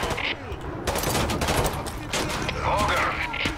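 Rapid gunfire in Call of Duty Modern Warfare 2 Remastered rattles in dense bursts and volleys, loud and close, with other shots layered on top and a voice speaking over the fire.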